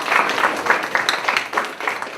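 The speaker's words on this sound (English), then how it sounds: "Can we have a round of applause for Paul," A comedy audience gives a short, brisk burst of clapping for a man named Paul, a close, uneven patter of many hands with no voices over it.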